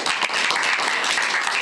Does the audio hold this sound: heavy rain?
no